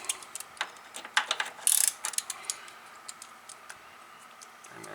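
A hand ratchet wrench clicks in short irregular bursts of sharp metallic ticks while working on a Toro LX425 riding mower during drive belt replacement, fairly close and alone with no voices.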